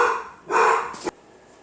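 Dogs in a home setting let out a couple of short, loud barks close to the microphone, then quiet follows.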